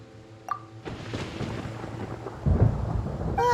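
Game thunderstorm in Genshin Impact: a sharp crack gives way to a long, loud rumbling roll of thunder with rain-like hiss, swelling heavier toward the end, with no talk over it.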